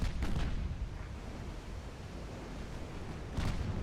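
Cruiser guns firing in the naval battle game Ultimate Admiral Dreadnoughts, a dense, booming rumble of heavy gunfire with sharp blasts near the start and again near the end, continuous and loud throughout.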